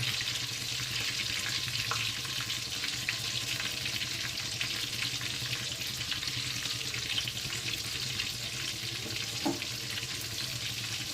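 Chicken fingers fry in mustard oil, a steady even hiss of oil running unbroken throughout, close and moderately loud with faint clicks, no voices.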